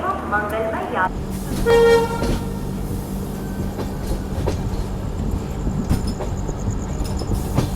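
The Panchaganga superfast train pulls away on a coastal Karnataka rail line, sounding a short, loud horn blast early on, followed by the steady rumble and clatter of the moving train, with voices nearby.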